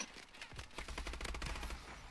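Rapid gunfire in an online shooter game, a fast burst of close, sharp shots ringing out one after another for about a second and a half.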